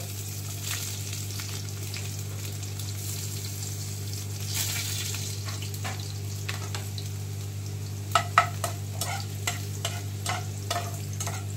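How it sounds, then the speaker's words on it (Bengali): Chopped garlic fries in hot mustard oil in a pan, a steady low sizzle running throughout with occasional sharp stirring clicks and scrapes toward the end, no talking. "রসুন কুচি দিয়ে দিলাম।"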